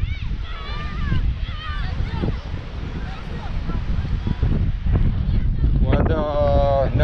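Strong gusty easterly wind at Tangier beach buffets the microphone in a low continuous rumble, with voices and children's shouts audible underneath.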